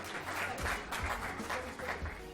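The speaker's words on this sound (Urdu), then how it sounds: "مہرال قمر کے لیے بھرپور تالیاں" Audience applause at a Pakistan Day debate competition prize presentation, steady dense clapping from a crowd in a hall, moderately loud and continuous throughout.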